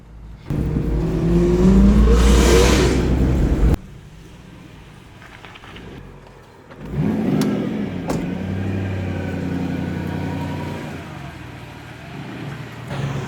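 Nissan S13 Sil80 engine on a road test, loud revving and accelerating up close, then dropping to a lower steady drone and building again into a sustained engine note.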